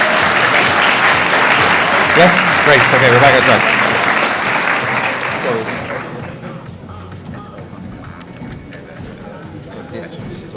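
At a national science fair final, the audience applauds STEM award winners with loud, dense clapping for about six seconds, then it fades as a nearby voice speaks over the quieter room.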